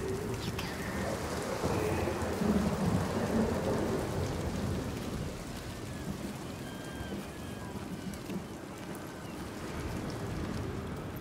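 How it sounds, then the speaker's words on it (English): Storm in the Hellblade II video game: steady heavy rain with rolling thunder rumbling through the low end, a dense continuous wash that surges early and then holds, with faint tonal calls above and no clear talk. "He brings the storms with him."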